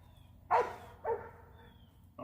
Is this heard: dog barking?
yes